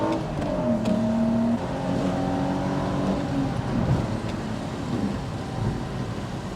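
A BMW E46 330ci coupe's engine pulls hard under acceleration on an open road, its steady rising drone revving out loudly and continuously inside the cabin.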